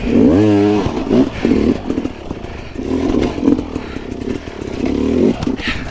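Hard enduro motorcycle grinding through slick holes, engine loud and close, revving up and dropping low as it bogs and nearly stalls, with clattering bumps throughout.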